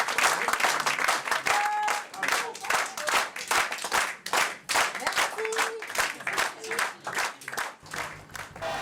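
Audience applause follows a song in a tribute show, a thick, crackling burst of many hands clapping with uneven swells and a few brief voices and whistles mixed in.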